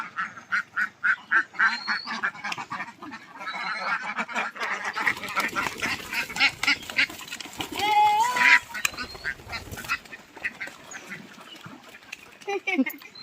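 Ducks on a laying-duck farm quack in a rapid run of short, loud calls, then a noisy flurry of overlapping quacks and honks while people talk nearby.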